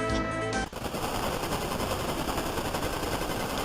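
Rapid machine-gun fire from airships in the Super Nintendo game Final Fantasy IV, a dense continuous rattle of shots that starts abruptly after a brief musical passage and stays loud to the end.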